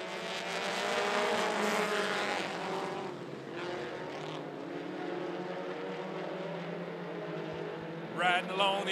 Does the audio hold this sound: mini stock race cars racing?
yes